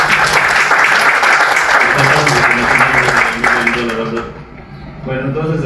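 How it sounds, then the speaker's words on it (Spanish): Loud audience applause at a book presentation on business innovation in Mérida, strong at first and then thinning as voices begin talking over it and the clapping fades out. "Un aplauso."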